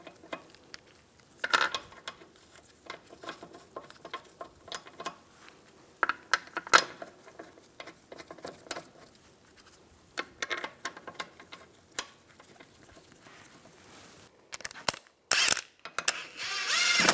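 Ratchet spinning lug bolts onto a rear wheel of a Volkswagen Beetle, sparse scattered clicks and short metallic rattles, then a loud dense burst near the end, close and without voices.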